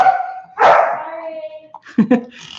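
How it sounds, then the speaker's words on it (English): A puppy barks upstairs in a house, giving a few sharp yips and barks with a whimpering whine between them, clear and fairly loud indoors. "he's figured out how to bark"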